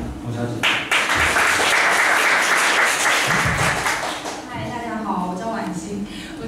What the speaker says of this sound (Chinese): 那我们一起掌声欢迎